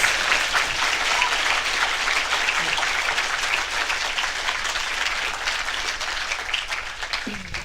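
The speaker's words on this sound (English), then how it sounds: "please give a round of applause to Lindan and Fiona, the original OGs." Graduation ceremony audience breaks into loud, continuous applause lasting nearly eight seconds, a full wash of clapping that tapers slightly at the end.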